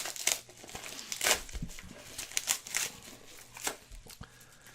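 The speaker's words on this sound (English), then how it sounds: "Let me just rip this open." A package being ripped open at close range, with bursts of crinkling and tearing paper or plastic in uneven rustling handfuls, fairly quiet and with no talking.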